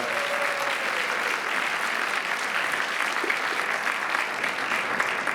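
A concert crowd in Finland keeps up sustained, loud applause, an even roar of many hands clapping with no talking over it.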